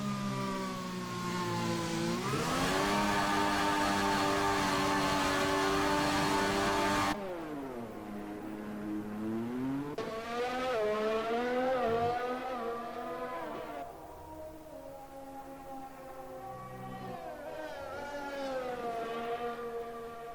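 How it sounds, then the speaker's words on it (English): A McLaren race car engine in a racing video game, a loud, continuous high-revving drone whose pitch repeatedly climbs and drops through gear changes, with no voices over it. "we saw a McLaren out on the track"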